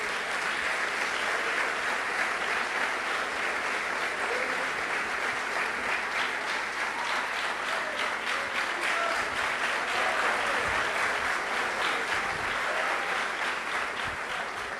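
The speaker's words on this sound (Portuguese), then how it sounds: "e a congregação aplaude a Jesus Cristo" A church congregation applauds in a sustained, dense burst of clapping that stays steady and fairly loud throughout, with no talk over it.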